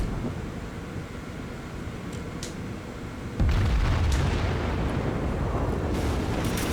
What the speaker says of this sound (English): Put a broadside in as we come around the corner.